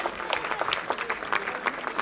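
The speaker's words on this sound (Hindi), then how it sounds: "भाई आप जोरदार तालियां बजाकर इन बच्चों का हौसला बढ़ा दिए दोस्तों" An audience at a stage event claps for a children's performance, with dense, continuous applause and scattered sharper hand claps standing out from a moderately distant crowd.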